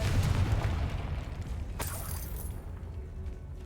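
Confringo fire spell blast from Hogwarts Legacy, a deep booming explosion with a sharp crackling burst partway through, rumbling low against a steady background.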